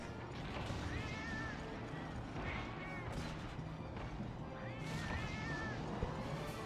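Cats meowing in a video game while they are slain, several high, wavering meows over a loud, constant rumbling background with occasional thuds.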